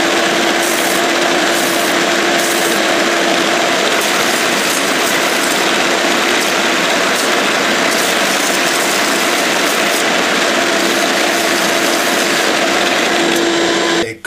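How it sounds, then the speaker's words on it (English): A steady, loud motor whine with a constant high-pitched hum runs throughout, uninterrupted, as a belt sander with a 180-grit belt sands wood continuously. "I am going to sand it with a 180 grit belt"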